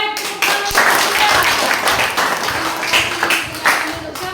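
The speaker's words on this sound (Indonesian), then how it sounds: "Tepuk tangan untuk Tia." Clapping for a student in a classroom lesson, a group of hands patting fairly loudly and unevenly for several seconds with a voice mixed in.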